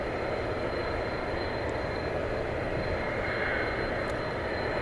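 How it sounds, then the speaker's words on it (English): Volaris Airbus A320neo taking off at night at DFW Airport, a steady, loud broadband jet engine roar holding constant throughout with no talk. "It's a handsome Airbus A320neo off to Carataro."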